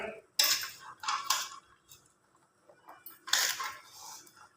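Boiled peanuts are scooped from a pot onto a plate, with several bright metallic clinks and scrapes of a utensil against cookware in short bursts, separated by quiet gaps.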